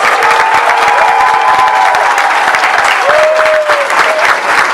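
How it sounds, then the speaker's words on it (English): A school audience at a fifth grade graduation applauds loudly and steadily with dense clapping throughout, a few cheers rising above it. "Let's get a big round of applause for Mr."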